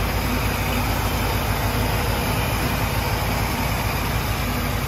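The rebuilt 429 cubic inch V8 of a 1964 Cadillac De Ville coupe idles steadily with a low, even rumble, running alone and close by with no pauses.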